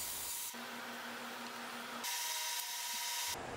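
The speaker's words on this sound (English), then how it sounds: "so I took some rare earth magnets, drilled a quarter inch hole," A power drill bores a quarter-inch hole into cedar wood, a steady, close whine that changes pitch in several sections as the bit works through the wood, with no voices.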